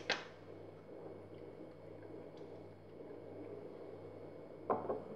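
Tabac Original Craftsman aftershave is splashed from the bottle, giving a short wet burst at the start and another near the end, with quiet room hush in between.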